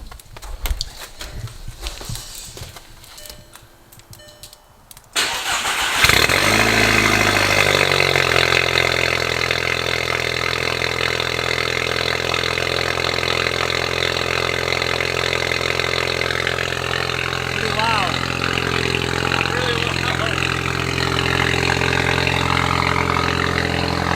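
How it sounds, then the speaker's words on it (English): A VW Golf MK6 GTI engine cold-starts with an abrupt loud crank and catch, then settles into a steady, loud, buzzing idle that continues close by. "So like cold start, it starts out real loud, but then it actually idles down pretty quiet."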